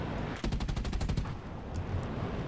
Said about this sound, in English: As long as I don't die to these gunshots.